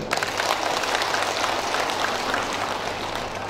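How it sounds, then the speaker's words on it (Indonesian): A crowd claps at a community aid handover event, a dense, steady wash of applause that keeps an even loudness throughout without fading. "Tepuk tangan buat beliau."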